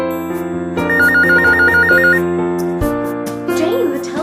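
A telephone rings with a rapid warbling trill over background music, then the music shifts and swells.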